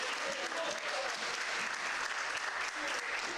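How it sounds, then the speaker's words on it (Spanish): Church congregation applauding during a service, a steady wash of clapping from many people that holds evenly throughout, moderately loud, with a voice faintly under it. "así que un aplauso también para ellos"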